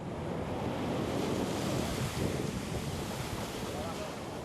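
Steady broadband wash of surf on a Lombok or Bali shore, waves breaking and draining back continuously with some wind noise, loud and close throughout.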